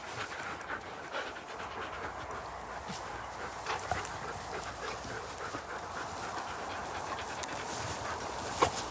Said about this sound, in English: the new dogs that I'm working with for the first time today